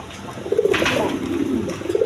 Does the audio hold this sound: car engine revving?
no